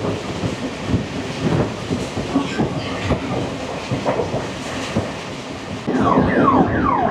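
A train runs through Goshaigram station on the line out of Azimganj Junction, giving a continuous loud rumble with rhythmic wheel clicks and thuds that swell even louder near the end, with no talk.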